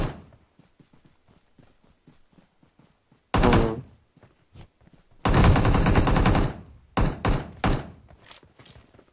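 Bursts of automatic gunfire in the PUBG video game on the Livik map, loud rapid rattling volleys with a long sustained burst and shorter stutters, separated by quiet gaps.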